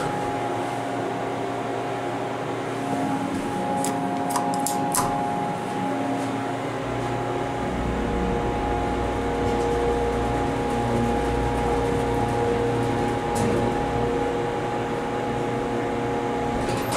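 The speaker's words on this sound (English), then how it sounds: "it sounds like an Otis fan" An Otis fan in an original hydraulic elevator at Rancho Cordova City Hall, running as a steady, loud mechanical hum and whir throughout, with a few faint clicks and no talk.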